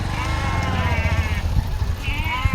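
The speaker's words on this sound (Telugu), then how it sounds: "మేకలు మేకలు ఉన్నాయి." Goats bleat close by in a wavering, overlapping chorus of several animals, with a low engine rumble running underneath throughout.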